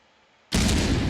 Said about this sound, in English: All the bots have 2 grenades. I think they've chucked them all.